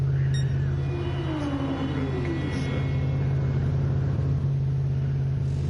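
Race cars lap the Barcelona-Catalunya circuit in Gran Turismo 7, a steady low engine drone with a rising whine and passing revs, continuous and moderately loud throughout.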